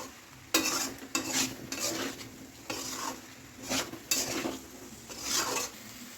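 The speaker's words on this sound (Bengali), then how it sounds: "এবার আলুটা দিয়ে দেবো, দিয়ে একসাথে একটু কষাতে থাকবো যাতে আলু আর এঁচোড়ের মধ্যে মশলাটা ঢুকে যায়" Potatoes and jackfruit stirred and sautéed with spices in a pan for a Bengali jackfruit curry, a spatula scraping in repeated strokes over a steady low sizzle, with no talking.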